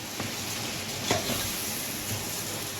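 A spoon stirs four cups of rice into a sizzling shrimp and spice mixture in a pot, giving a continuous soft frying hiss with light scraping.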